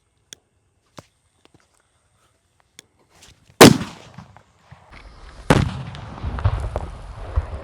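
A Diwali firecracker bomb explodes outdoors in two loud, sharp blasts, each followed by crackling debris, after several faint ticks and pops.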